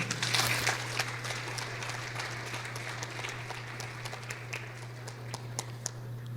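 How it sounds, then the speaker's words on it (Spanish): A congregation at a Spanish-language Christian service applauds, a burst of clapping that swells at first and then thins into scattered, sharper claps over a steady low hum. "Denle un aplauso al Señor."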